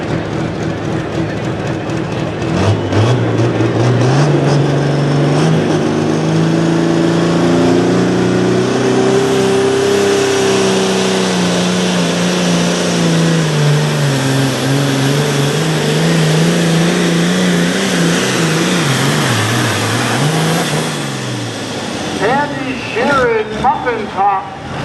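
Ford-powered pulling tractor of the Shearing Pulling Team, called the Muffin Top, at a night pull in Langford, New York, roars loud and steady as the engine revs, the pitch rising and falling through the run before it bogs and sputters near the end.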